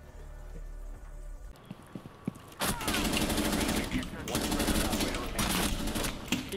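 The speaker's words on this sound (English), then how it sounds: "Keep shooting." Shooter video game gunfire erupts into loud, sustained rapid bursts after a quieter opening of scattered clicks and a low hum, with voices talking over the game sounds.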